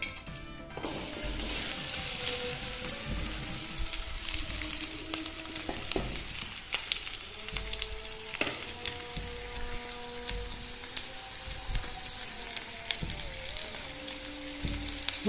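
Onions sizzle and crackle in hot oil at the start of a tomato chutney, a steady close frying hiss with occasional stirring scrapes and no talk.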